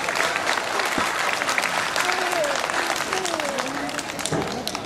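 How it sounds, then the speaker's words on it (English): Audience applause at a 2012 school graduation ceremony, a dense continuous patter of many hands clapping in a hall, with faint voices under it and a slight fade near the end. "Let's give her a round of applause"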